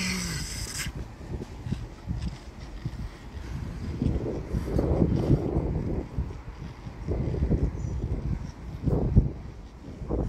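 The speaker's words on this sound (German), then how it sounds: "Ist ja schon windig," Gusty wind from a squall line with hurricane-force gusts buffets the microphone in low, rumbling surges that rise and fall throughout, with no voices.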